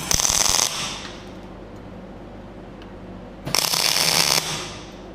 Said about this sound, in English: Who would have thought the good old Bunnings clamp would have pulled that in?